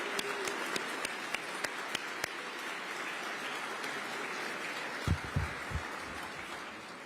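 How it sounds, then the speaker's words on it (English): Applause from an audience gathered at a morning Veterans Day ceremony in New York City, a steady wash of many hands clapping with a few sharper claps, continuing throughout with some louder thumps near the end. "give your neighbor a round of applause"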